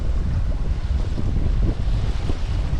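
A sailboat under way on Lake Ontario, with steady wind rushing past and waves washing against the hull, loud and continuous throughout.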